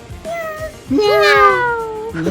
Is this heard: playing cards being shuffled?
no